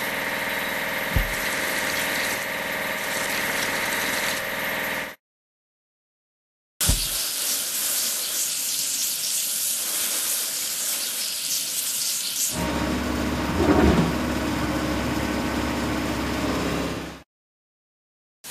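In a cartoon vehicle-washing game with a pickup truck, water sprays in a steady hissing rush, broken by gaps of silence, with a low engine-like hum under one stretch.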